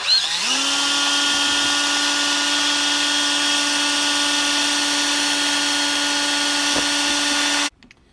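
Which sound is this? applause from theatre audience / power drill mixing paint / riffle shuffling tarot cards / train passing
power drill mixing paint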